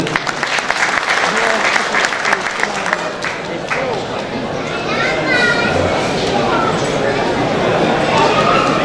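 Audience applause for a donor at a traditional iftar festival, a dense, loud burst of clapping with children's voices and chatter mixed throughout.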